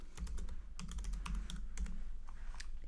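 A query is typed on a computer keyboard in a fast, steady run of close, crisp keystrokes with short pauses between words. A low hum sits underneath.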